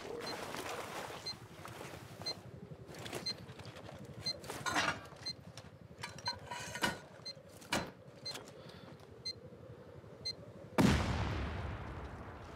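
Rockets and C4 charges go off in a video game: a string of sharp, scattered bangs and thumps over a steady low hum, ending in one big close explosion that rolls on to the finish.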